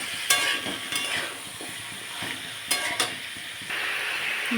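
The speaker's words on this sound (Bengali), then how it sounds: "একটুখানি তেলে ভেজে নেব।" Food sizzles steadily in hot oil nearby, with occasional scraping and clinks of a utensil stirring the pan.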